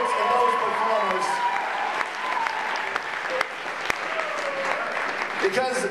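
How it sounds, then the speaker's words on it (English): A poetry slam finals audience gives poets and performers a big round of applause, a broad steady roar of clapping from a large crowd, with a host's voice speaking over it. "A big round of applause to those poets and those performers."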